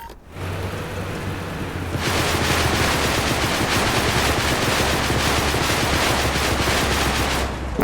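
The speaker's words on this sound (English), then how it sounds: "So I'm going to unleash a barrage upon this poor harvester." Sustained rapid gunfire from units in a real-time strategy video game as they attack a resource harvester, a loud, dense rattling barrage that starts moderately and grows heavier after a couple of seconds, continuous with no pauses.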